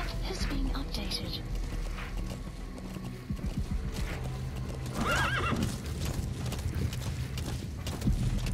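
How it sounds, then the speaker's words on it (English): Inside Metal Gear Solid V: The Phantom Pain, a horse walks along with steady clip-clop hoofbeats and whinnies once midway. Game sounds and a voice run over the hoofbeats. "nobody questions a horse walking by you in the middle of the nowhere"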